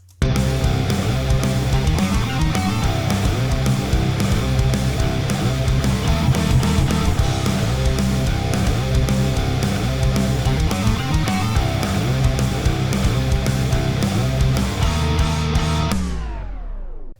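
A rock guitar part plays through a Mesa Boogie-style amp plugin with reverb, backed by drums and bass. The full, dense band mix is loud and continuous, then cuts off abruptly with a tape-stop-like fade at the end.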